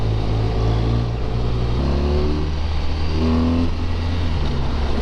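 A 2017 BMW R1200RT motorcycle engine revs while riding, loud and close, the pitch climbing through a gear and rising again, over steady wind and road roar.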